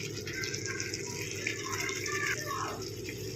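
Paneer posto being poured from the cooking pan onto a serving plate in a home kitchen, giving soft, faint wet sliding and gurgling sounds over a quiet background hum.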